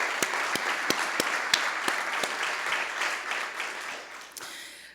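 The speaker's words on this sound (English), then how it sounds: "please do give them a round of applause." Audience members at an urban innovation panel event applaud, a steady wash of clapping with a few sharp individual claps standing out, tapering off toward the end.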